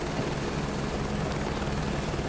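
A helicopter in Microsoft Flight Simulator 2024 drones steadily with a dense rotor and engine roar, constant and moderately loud throughout with no talk.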